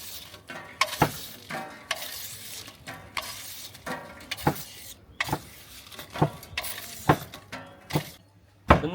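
Dried red chilies fry in a pan under a steady sizzle, broken by repeated loud, close scraping and stirring strokes.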